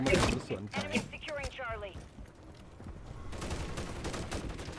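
Call of Duty MW3 gunfire comes in rapid bursts at the start, followed by a short chirping mechanical sweep and then a softer rattling volley toward the end, mixed with a person speaking.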